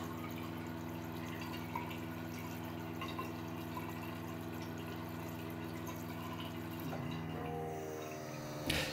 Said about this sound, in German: Nachdem ich den schlauen Hahn geöffnet habe, startet die Wasserproduktion.